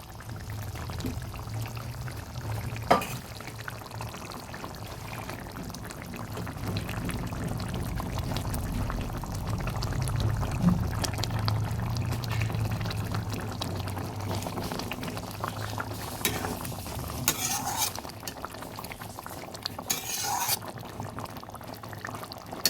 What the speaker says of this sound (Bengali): ঝোলটা সুন্দর ফুটে উঠেছে এবার মাছগুলো দিয়ে দেবো